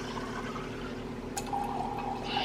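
A carbonated drink dispenser pours a liquid with a steady fizzing, gurgling flow that rises midway and continues to the end, heard alone without speech.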